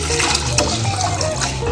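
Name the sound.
water poured into cooking pot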